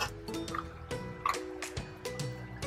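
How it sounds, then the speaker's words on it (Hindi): Water splashes and drips into a pot of chicken kabsa in a series of short, uneven bursts, with wet sloshing sounds between them, fairly quiet and close. "अब मैं इसके अंदर पानी डाल के इसको थोड़ा शोरबे के लिए छोड़ दूंगी"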